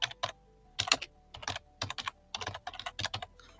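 Keys tapped on a computer keyboard in short irregular bursts, close and crisp, with brief pauses between clusters of strokes and no talking.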